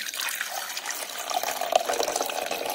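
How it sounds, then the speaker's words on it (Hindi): One cup of water poured into a coffee maker's water tank, a steady splashing, trickling stream that continues throughout, close and fairly loud with no talk over it. "चलिए अब हम इस वाटर टैंक में 1 कप पानी डालते हैं।"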